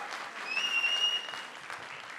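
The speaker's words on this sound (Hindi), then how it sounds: "जोरदार तालियां हो जाए, जोर से तालियां हो जाए।" A trailer launch audience for a Netflix series claps steadily, a dense, even patter of many hands heard from within the hall, with no speech over it.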